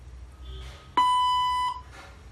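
One clean electronic beep sounds from a robot language translator prompt, a sustained tone of about three quarters of a second over a low room hum, with faint murmurs before and after.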